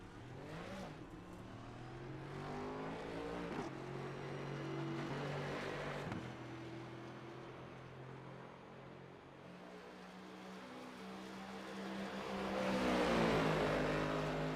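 A Mustang race car in the A2 Cup Series runs a qualifying lap. The engine drones and climbs through repeated upshifts, eases briefly mid-lap, then swells to a loud, bright roar near the end.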